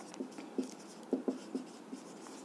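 Chalk or marker tapping and scratching on a board during a Hindi physics lecture on capacitance, several short close strokes in an uneven rhythm over a quiet room.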